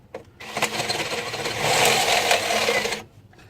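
A drill bores through a broken easy out lodged in a snapped exhaust stud on a Nissan 300ZX, a steady, close, grinding whine that rises in intensity midway and cuts off abruptly near the end.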